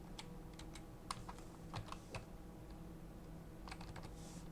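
Keys on a computer keyboard being typed while writing program code, scattered quiet clicks in short bursts with pauses, close and soft over a steady low hum, no talking.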